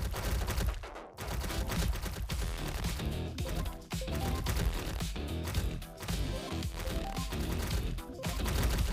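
Rapid bullet fire pours out in the tower defense game Glowbot, a dense, continuous rattle of quick shots and impacts with brief dips, loud and sustained throughout.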